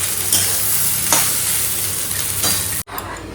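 Cooked rice frying in a pan, a loud continuous sizzle with a few sharp scraping stirs of a spatula, cutting briefly to a quieter hiss near the end.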